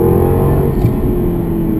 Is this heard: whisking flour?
no